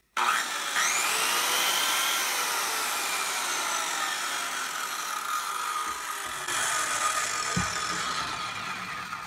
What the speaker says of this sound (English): push the trigger and